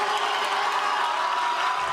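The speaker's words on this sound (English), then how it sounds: "Hundreds of students lining the halls, clapping and cheering" Hundreds of high school students lining the halls clap and cheer for a beloved janitor, a steady dense wash of applause and crowd noise heard briefly.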